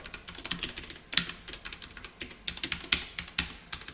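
C code being typed on a computer keyboard, a steady patter of sharp keystrokes with a few louder taps, close and clear, with no voices.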